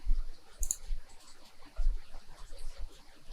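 Computer mouse clicks in graphic-design software while choosing a Photoshop brush, a few short sharp clicks spaced across a quiet room, close and fairly soft.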